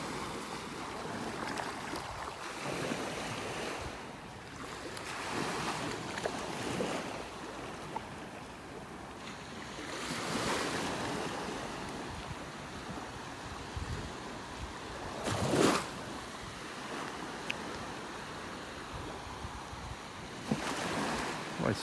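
Ocean waves wash onto a beach in North Naples, Florida, a soft continuous surf with slow swells and occasional gusts of wind noise buffeting the microphone, heard alone without talk.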